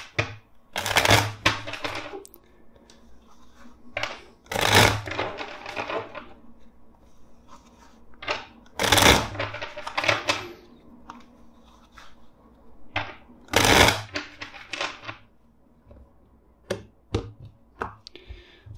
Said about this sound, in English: first let's shuffle four times.